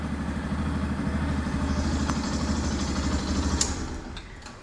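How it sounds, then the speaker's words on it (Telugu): A second-hand 2022 Yamaha FZ-S motorcycle idles close by with a steady, even low engine rumble and a light mechanical clatter, and a brief sharper knock is heard near the end. "వెహికల్ ఇంజిన్ ఒకసారి స్టార్ట్ చేస్తారు చూడండి"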